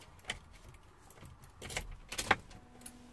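Keys jangle and click in the ignition of a 2011 Renault Master van, a few brief metallic rattles and one sharper turn near the end, close and quiet with no engine running.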